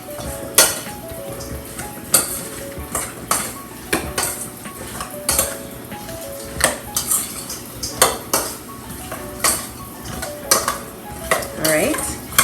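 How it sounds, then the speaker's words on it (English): Potatoes stirred in a metal pan with a utensil, repeated scraping and clanking strikes at irregular intervals over a faint sizzle, close and clear with no talk. "I'm gonna give them a stir"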